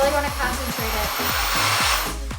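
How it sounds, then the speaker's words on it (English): A hair dryer blowing steadily and close while aimed at the roots of hair during an Airtouch blonde treatment, a constant loud rushing whoosh with faint talk underneath. "aim it right down at the root and blow out all those short hairs, and then blow dry down the shaft"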